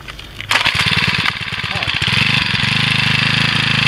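A small gas-engine hedge trimmer with fuel in its lines starts on choke, catching abruptly and settling into a loud, steady, buzzing idle close to the microphone.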